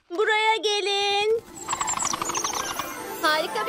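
Cartoon little birds at a bird feeder chirp in bright, high, tuneful calls, a few quick tweets up close, then quieter chatter with a voice speaking over it.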